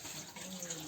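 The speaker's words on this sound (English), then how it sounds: "We have got fresh water here, and this is really potable." Fresh, cold potable water running outdoors on a trek, a soft continuous flow heard briefly and faintly with a murmur of voices underneath.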